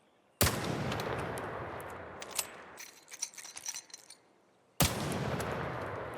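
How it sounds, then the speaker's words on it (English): A gun fitted with a muzzle brake 2 in ARC Raiders fires two sharp, loud shots a few seconds apart, each followed by a sustained roar, with scattered rattling and clinking tails between them. "Third shot with muzzle brake 2."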